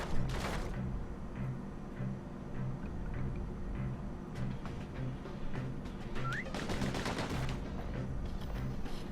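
Gunfire from the action video game Bastion: a run of sharp in-game shots over a steady bed of game sound, with a burst of brighter bangs late on and no voices.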